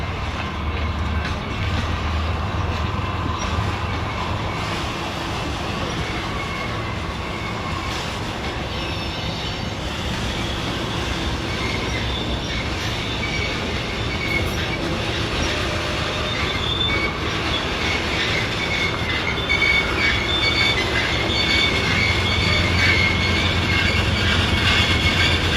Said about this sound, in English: the BNSF Temple-Tulsa train was backing into the yard, going Longhood forward